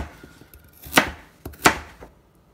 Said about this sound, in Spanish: Ahora voy a cortar nuestras zanahorias en pedazos medianos